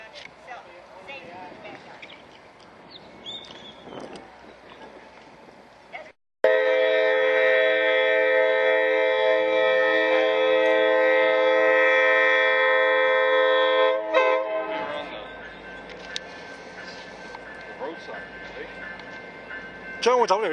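The Grand Canyon Railway #29 steam locomotive sounds a long, loud, steady horn blast as it approaches, with people talking in the quieter stretches before and after.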